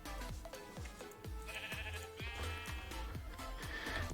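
Repeated sheep bleats in the Minecraft modpack Project Ozone 3, several short calls in quick succession over steady game background noise, fairly loud and close.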